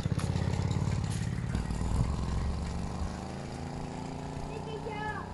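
A grandfather's old Motoconfort AU3 moped gets pedalled into life, its small engine chugging in a steady clattering rhythm that settles to an even, slightly quieter run, with voices speaking nearby.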